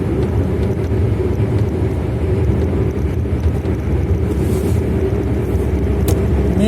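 A car drives along a single-lane highway while overtaking, heard as a steady, loud, low engine and road drone that holds constant throughout with no talking.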